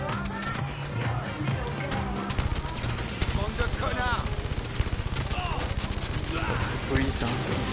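Gunfire aimed at the player in the video game Blood & Truth, dense rapid volleys of shots, loud and continuous for several seconds, while a voice talks underneath the shooting.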